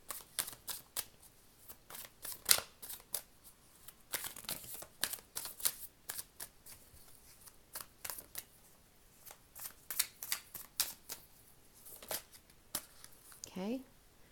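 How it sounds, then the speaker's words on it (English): Repeated crisp riffling bursts of tarot cards being shuffled, close and clear, in irregular batches, with soft talking in between. "but I'm just shuffling them again."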